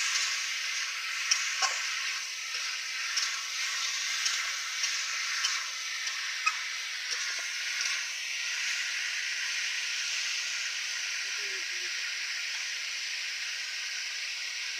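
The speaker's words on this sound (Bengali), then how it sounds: "আমি ধনেপাতা সজনে ডাঁটা ভাজা আমি দিয়ে দিচ্ছি কড়ার মধ্যে" Fried drumsticks and coriander leaves added to potatoes in a wok: a steady, loud sizzle with soft stirring scrapes, settling into an even hiss toward the end.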